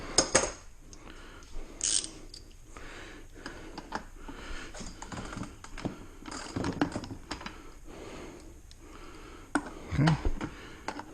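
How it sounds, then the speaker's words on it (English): A ratchet and socket click in short bursts while a toy Paw Patrol Marshall fire truck gets a 6-volt to 24-volt upgrade, close and intermittent clicking with quiet gaps between. "My ratchet."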